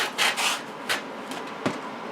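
A few short swipes of sandpaper rubbing across a wooden jewelry box to clear glue squeeze-out, four or five quick dry strokes, close and fairly quiet.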